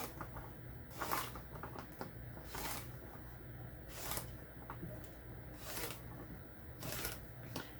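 Rotary cutter slicing 1.5 inch quilting fabric strips from a 6.5 inch strip for a table runner, heard as repeated short scraping swipes about once a second, close and moderately quiet, with no talking.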